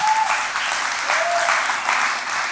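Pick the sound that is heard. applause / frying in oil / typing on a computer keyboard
applause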